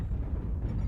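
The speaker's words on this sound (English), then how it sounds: "Artillery strike online." Artillery strike explosions in MechWarrior Online, a dense low rumbling roar of blasts that is steady and loud for the whole short stretch, with no clear gaps between hits.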